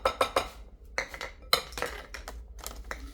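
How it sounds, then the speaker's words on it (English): Spoon scraping and clinking against a bowl while stirring softened cream cheese for a cherry cheese coffee cake, in short, close, irregular bursts. "We want to be able to stir it. Stir this up."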